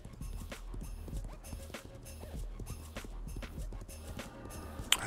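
A horse in the online game Legends of Aria, its hooves clip-clopping in a quick, even gallop at moderate distance, with a whinny mixed in and a brief sharp sound at the end.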